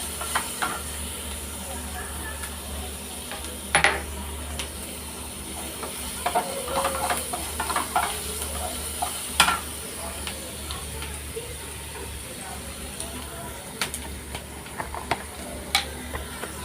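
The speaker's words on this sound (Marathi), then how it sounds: "कांदा थोडा लाल होईपर्यंत परतवायचा आहे" Chopped onion sautéing in oil until lightly reddened, a steady close hiss and sizzle with occasional sharper pops and a few clinks of stirring throughout.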